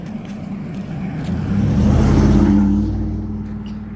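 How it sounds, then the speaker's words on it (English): Car passing on a road without sidewalks, engine rising from a distant approach to a loud close rush and fading away, heard alone with no talk. "Oh, and here comes a car."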